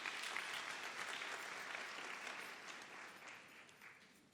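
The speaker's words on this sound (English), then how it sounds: "A round of applause, please." Crowd at a university autumn graduation ceremony applauds, a steady wash of clapping that slowly fades, heard from some distance.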